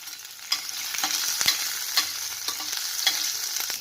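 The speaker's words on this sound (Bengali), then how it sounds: "বরবটিটা দেব তো ভাজা হয়ে গেছে দিচ্ছি কালো জিরে" Yardlong beans frying in a pan with nigella seeds and chopped green chilli, stirred: a continuous close sizzle broken by regular sharp scraping clicks of the spatula, no voices.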